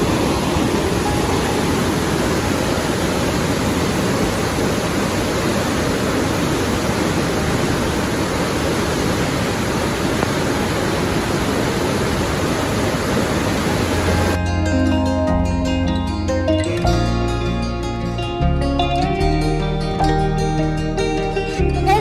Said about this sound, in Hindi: अभी हम लोग पहुंच चुके हैं देवप्रयाग पे और आप पीछे का शोर सुन सकते हैं। ये है भागीरथी नदी